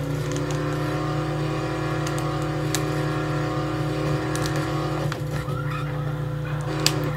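A truck engine in the Dead Island game drones steadily at a constant loud pitch while driving, with faint tire squeals and brief clicks over it and no talk.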